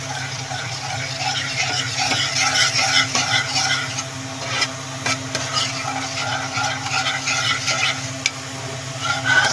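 Vermicelli being stirred as it fries in a pan for a home-made pudding, a continuous soft sizzle with intermittent scraping strokes of the spatula, close and moderately loud throughout.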